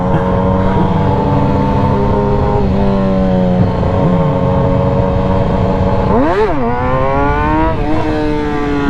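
An old motorcycle engine idles with a steady throbbing tone, then is revved sharply twice near the end, the pitch climbing and falling with each blip, close and loud.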